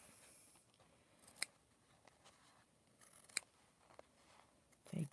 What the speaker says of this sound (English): Snip it. Just don't cut your quilt block.